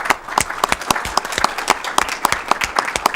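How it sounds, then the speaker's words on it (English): A small crowd at a city council meeting claps steadily and enthusiastically, sharp close-up hand claps ringing out over a brief burst of applause with no speech. "Let's give them a big round of applause."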